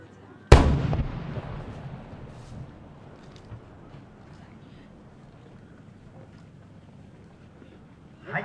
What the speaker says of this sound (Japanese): 合瀬高田様の協賛花火です